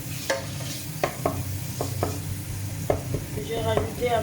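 Onions frying in a pan for meat nems, with a continuous sizzle broken by repeated scraping stirs of a utensil at an irregular rhythm, close and clear.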